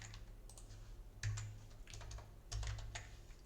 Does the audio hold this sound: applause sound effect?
no